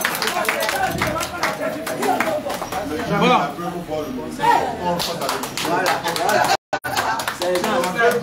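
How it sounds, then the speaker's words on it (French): Scattered hand claps from a gathering of people in Cameroon, applauding a named individual, tapping unevenly with voices chattering over them before a brief gap near the end. "Ajoutez aussi des applaudissements pour Ekwe Silo."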